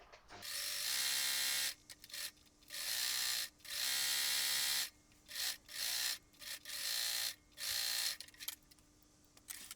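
Sewing machine stitching pleats on a jersey dress, running in bursts of a second or two with brief pauses between runs, a steady whirring motor hum, close and fairly quiet, with no talking.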